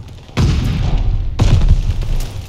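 Grenade explosions in the video game Call of Duty: Vanguard, two heavy booms about a second apart, loud and close, each followed by a rumbling tail.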